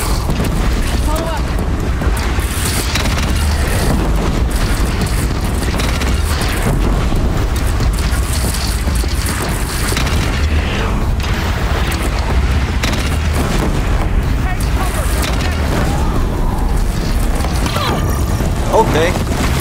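Bomb blasts in the video game Horizon Zero Dawn, dense booming explosions and rumbling game noise filling the whole stretch at high loudness, with someone talking over parts of it.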